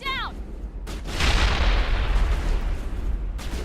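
A bomb going off in a Mass Effect firefight. A short chirping sound comes first, then a sharp crack and a loud, sustained explosive roar that slowly fades under continuing combat noise.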